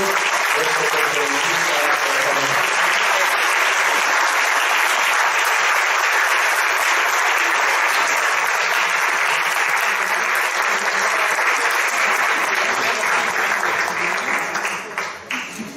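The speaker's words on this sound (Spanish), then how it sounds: "Le damos un fuerte aplauso para Pedro." An audience at a lecture gives a long, dense burst of applause to the speaker, a priest named Pedro. It stays loud and steady for about fifteen seconds before tapering at the end.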